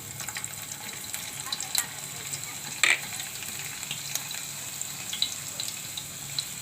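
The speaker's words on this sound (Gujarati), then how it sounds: "આપણું તેલ ગરમ થઈ ગયું છે તો આપણે જીરું નાખી દેવું આ લીલું લસણ નાખી દેવું" Cumin and green garlic drop into hot oil and sizzle with a steady, fairly quiet crackling hiss, with a few sharper pops and clicks scattered through.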